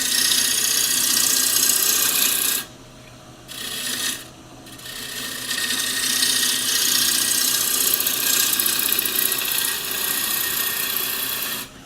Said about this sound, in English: lean into the lathe, and there straight away we've got a nice curve there for the foot